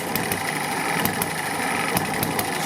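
A small Eachine ET1 hit-and-miss model engine runs close by, a steady mechanical chatter with faint periodic ticks and light vibration, no talking.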